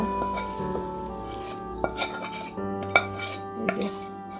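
Vegetables are tipped into a hot metal wok with clanks and scraping, followed by faint sizzling and stirring, fairly quiet and close.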